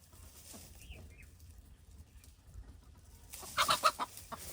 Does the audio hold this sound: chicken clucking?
yes